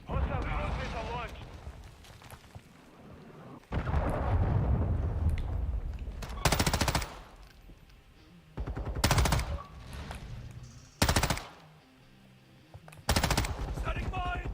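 Bursts of gunfire from a military shooter video game erupt in several loud, sharp volleys spaced a few seconds apart, with a player talking between and over them.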